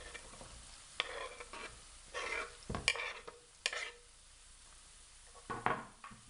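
Onion and chopped mushroom stems sizzle in hot oil while a utensil stirs and scrapes the pan in short bursts, quiet but near.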